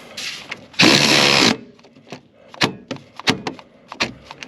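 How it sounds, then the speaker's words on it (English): A ratchet wrench clicks on a 1991 Chevrolet S10 Blazer, its sharp ratcheting ticks coming in uneven bursts, close by, after a brief loud rush of noise. "it's ratcheting backwards"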